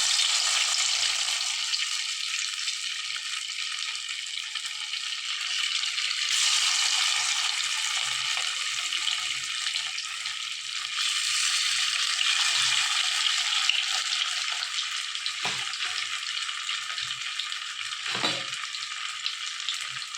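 Loud, steady sizzling of fish frying in hot oil, with occasional faint clinks in the background.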